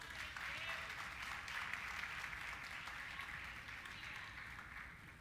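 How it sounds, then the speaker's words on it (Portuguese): A church congregation applauds during a sermon, a continuous faint wash of clapping heard from a distance at low level, steady throughout. "Você pode aplaudir o nome do Senhor?"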